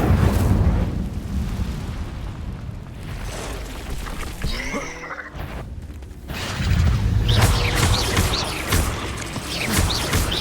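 A fire spell cast in the video game Hogwarts Legacy, a dense roaring whoosh of flame and rumbling blasts that fills the whole stretch, swelling loudest toward the end, with a short twinkling magic effect in the middle.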